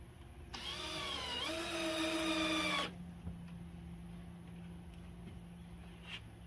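A cordless drill driving a screw into the mounting for a Camplux tankless water heater, one rising whir of about two seconds, close, followed by quiet room noise with faint clicks.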